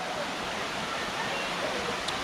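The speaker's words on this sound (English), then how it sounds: "Lots and lots and lots of water on this fall." A full-flowing waterfall on the Bruce Trail swollen with extra water, a dense steady broadband rush that fills the whole stretch without breaks, close and constant.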